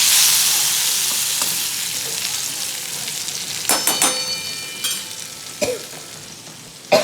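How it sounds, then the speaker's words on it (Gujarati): Okra (bhindi) fries in a pan with a steady close sizzle. A few sharp clinks and scrapes of stirring break through at uneven intervals. "ભીંડો મૂકી દીધો છે બનવા."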